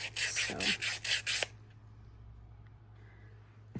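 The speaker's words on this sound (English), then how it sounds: "That's another thing where the sandpaper can do something." Sandpaper scrubs across paper ephemera to age it for a junk journal, making a burst of rhythmic rasping strokes, close and fairly loud, before it stops and only faint room quiet remains.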